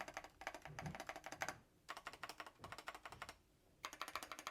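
Bursts of typing on an Epomaker RT100 mechanical keyboard, rapid clacky keystrokes in quick runs separated by short pauses, close and fairly quiet.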